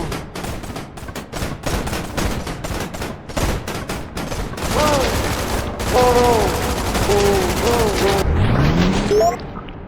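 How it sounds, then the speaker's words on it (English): Rapid, loud gunfire rattles continuously in a roguelike shooter video game, dense bursts of shots with a few rising and falling tonal effects near the end, while a person talks over it. "Oh, I shot someone's arm off."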